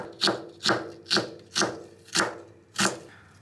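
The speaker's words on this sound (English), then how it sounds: "other half, I will slice very thinly" A knife slices food thinly on a cutting board while Japanese curry is prepared: six evenly spaced, close, crisp cuts, each striking the board, heard alone without talk.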